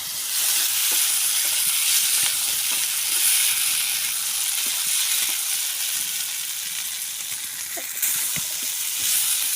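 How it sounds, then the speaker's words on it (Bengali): Chickpeas sizzle steadily while being heated for an iftar meal over a clay stove, a loud, continuous frying hiss with faint scraping and stirring clicks throughout. "আমাদের ছোলা গরম করা হয়ে গেল।"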